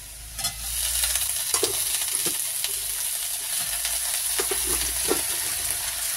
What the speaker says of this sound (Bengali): আলুটা ভাজা হয়ে গেছে, এবার আমি শাকগুলো এতে দিয়ে দিচ্ছি